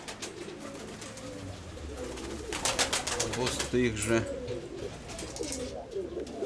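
Pigeons coo in a dovecote at close range, soft repeated rolling calls over a steady low background, with someone talking over them throughout.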